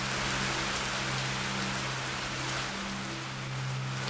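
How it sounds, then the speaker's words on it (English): Steady, dense rain hisses evenly from start to finish in the Betweenlands game world, with a faint low hum beneath the downpour. "Yay, rain!"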